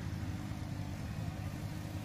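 A mini tractor's engine hums with a low, steady mid-level rumble as it pulls a plow, without letting up through the short stretch.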